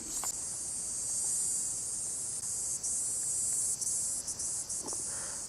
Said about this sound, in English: You really hear them cicadas though. They're singing their songs.